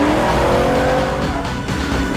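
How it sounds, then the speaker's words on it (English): A 1967 Ford Mustang in a police car chase squeals its tires hard, a loud sustained screech over a roaring engine that fades slightly toward the end, with no talking. "Baker 11 in pursuit of 67 Ford Mustang Gray."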